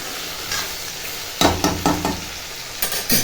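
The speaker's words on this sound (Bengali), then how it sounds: "টমেটো দিয়ে আগে কষিয়ে নিচ্ছি" Tomatoes sautéing in a pan give a steady close sizzle, broken by several sharp scraping stirs of a spatula in quick succession, with no talking.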